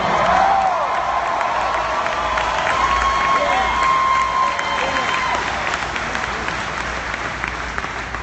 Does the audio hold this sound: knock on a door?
no